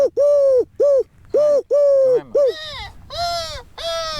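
A person mimics the call of a Eurasian collared dove, producing a series of clear, close, hooting coos with short pauses. The final note is longer and breathier, and the birdlike call comes from a human voice.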